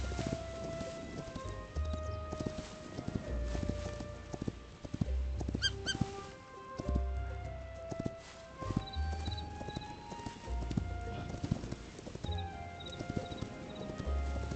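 Horse hooves clip-clop in a steady, uneven rhythm in Hytale with the Aura Magic mod, close and fairly quiet, with occasional squeaks and a brief whinny.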